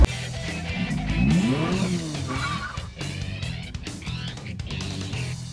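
A Ferrari Portofino's engine fires up and revs, rising to a strong throaty surge early on, then settling into lighter revving and idling with some scattered background noise, close and fairly loud.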